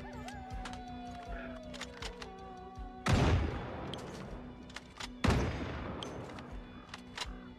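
Gunfire in the Project Zomboid video game: two sharp, loud shots a couple of seconds apart, each with a long decaying tail, over a steady faint background hum and small clicks.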